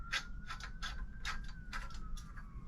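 Shower head being screwed onto threaded pipe, giving a series of close, dry ratcheting clicks and thread scrapes in uneven bursts over a faint steady tone.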